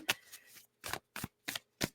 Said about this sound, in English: we'll shuffle a little bit more and cut them again